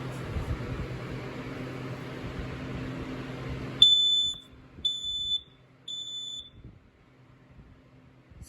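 A Kidde smoke alarm, model i9030 or PI2010 and made in 2016, is tested and gives three loud, shrill, piercing beeps in a steady pattern after a stretch of handling noise, then goes quiet.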